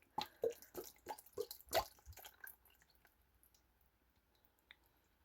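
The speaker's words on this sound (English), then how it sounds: "Now you want to take your bottle of dressing and pour the entire thing in." A full bottle of dressing glugs and splatters into a bowl of pasta salad, with a run of wet drips and squishes up front that thin out to quiet dribbles.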